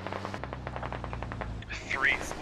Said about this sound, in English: I hear so much gunfire.